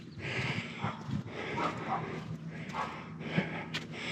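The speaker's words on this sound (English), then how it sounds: "my neighbor's dog's barking right now" A dog barks several times in the distance, faint bursts spaced irregularly over a steady background hum.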